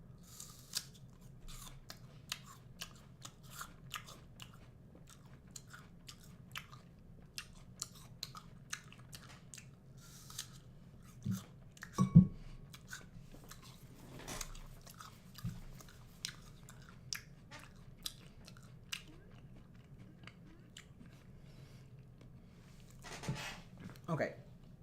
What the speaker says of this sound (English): let me just take a bite